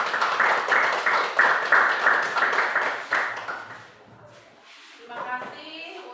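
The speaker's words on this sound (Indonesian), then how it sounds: "Silakan tepuk tangan dulu." Classroom of students claps after a presentation, a run of rhythmic group clapping for about three seconds that fades out, followed by quieter shuffling and a voice speaking.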